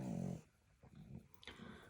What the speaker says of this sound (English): oh, here comes the dog